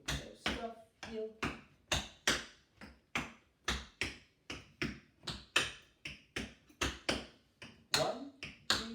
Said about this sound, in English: Heel, toe, toe, heel, toe, scuff, heel, toe, toe, heel, toe, scuff, heel.